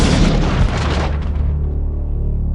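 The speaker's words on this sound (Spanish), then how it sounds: "la devastación provocada por una explosión se puede usar como forma de ataque en sí misma" A bomb explodes with a heavy, loud boom up front, then a long rumbling decay that fades out.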